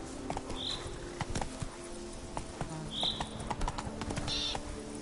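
Roach, the horse in The Witcher 3, trots with a steady clip-clop of hooves, close and clear, alongside faint ambient game sounds and occasional bird calls.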